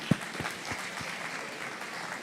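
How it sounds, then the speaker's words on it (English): A seated audience at Canada's Farm Show claps for a stage presenter, a steady wash of many hands at moderate distance with a few sharper claps near the start, no voices over it. "Let's give Sam one more warm round of applause here."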